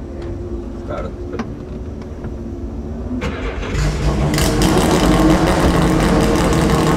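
A Mazda prototype race car's rotary engine fires up: quiet ticking and clicks, then it catches into a loud, raspy, sustained roar, close by and filling the space.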